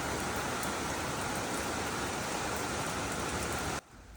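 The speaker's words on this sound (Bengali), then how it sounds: "খাবার শেষ করে আমার ব্যাকইয়ার্ডে চলে আসলাম বৃষ্টি দেখতে, আর বৃষ্টির সাউন্ডটা আমার এত ভালো লাগে।" Steady rain falls in a backyard, a dense even hiss of drops that holds at one level and then cuts off abruptly near the end, with no voices.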